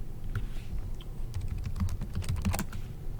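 Fast, uneven keystrokes on a computer keyboard while entering a quadratic expression into a graphing calculator site, a close, continuous run of clicks with brief pauses and no speech.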